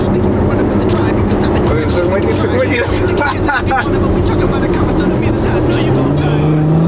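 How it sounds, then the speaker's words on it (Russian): A passenger minibus races alongside a car through Istanbul traffic, with a continuous loud engine roar and rushing road noise that swells as a vehicle passes near, while people talk over it. "Пассажирский микроавтобус со мной гоняется, понимаешь?"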